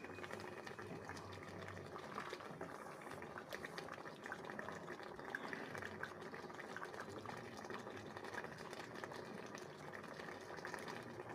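Fish curry with vegetables simmering in a covered pot over low heat, a steady soft bubbling and gentle hiss that stays faint and even throughout.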